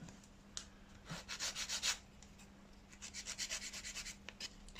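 A nail file rubs along the side walls of builder gel nails beside the skin in short bursts of quick, close scratchy strokes, quiet, with pauses between passes and no talking.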